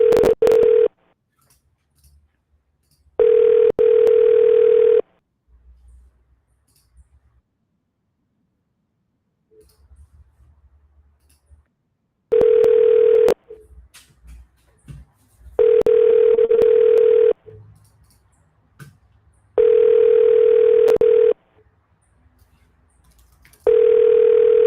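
An outgoing phone call rings out with four long, even ringback tones separated by quiet gaps, loud and close, with faint background noise between rings.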